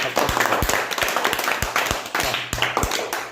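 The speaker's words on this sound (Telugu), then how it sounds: "క్లాప్స్ కొట్టండి లహరి" A group of schoolchildren claps for a classmate, a quick run of close, sharp hand claps in an uneven rhythm that continues steadily for a few seconds.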